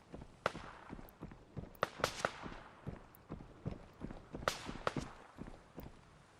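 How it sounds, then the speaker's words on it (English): Irregular footstep thuds and sharper clacks sound in a video game, some louder hits standing out among quicker scuffing steps, close by with no voices. "I heard footsteps."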